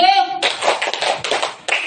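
Hand clapping in a rhythmic group clapping game led at a school gathering, a voice briefly at the start followed by a run of sharp, close claps in a quick, uneven pattern.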